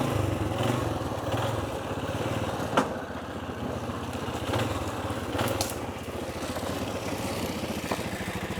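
An ATV towing a four-wheeled Marlon tub trailer runs steadily at close range, its engine droning continuously with a few sharp knocks and rattles from the rig over rough ground, and no talking.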